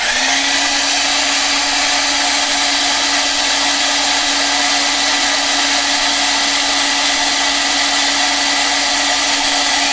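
A hair dryer blows steadily and loudly to dry acrylic paint on a miniature viper model, a constant whooshing roar with a faint tonal whine that holds unchanged for about ten seconds, with no talking.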